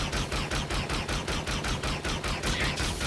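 Automatic weapon fire in the monster survival game Stuffed: a rapid, steady burst of about fourteen evenly spaced shots over three seconds, loud and close, with no talking.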